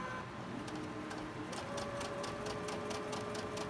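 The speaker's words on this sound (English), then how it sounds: "Shouldn't have a problem with your sewing machine going over that bump." A sewing machine stitches across a thick quilt-block seam intersection, a fast even mechanical chatter of needle strokes with a faint motor hum underneath, fairly quiet and close, no voices.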